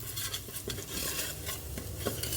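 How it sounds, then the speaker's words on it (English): A utensil stirs food in hot oil in a pot for Jamaican curry, making close, repeated scraping strokes over a steady soft sizzle, with no voices. "Now I just want to mix this around."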